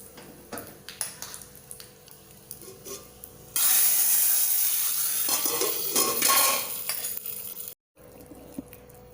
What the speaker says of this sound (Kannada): ಹಿಂಗು ಪಾಡ್ದು ಒಗ್ಗರಣೆ ಪಾಡ್ಲೆ